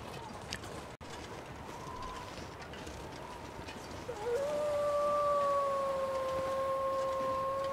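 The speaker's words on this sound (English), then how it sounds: "Usually when you hear a howl go off, there's usually a second or a third you'll hear from somewhere else" A lone wolf howls in The Long Dark, a long sustained wavering tone that rises and holds steadily over faint wind ambience, sounding somewhat distant with no answering calls.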